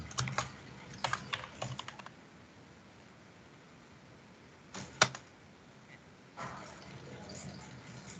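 Computer keyboard typing Java code: quick bursts of close key clicks at the start and again midway, separated by near-quiet pauses, with faint room noise and no talk.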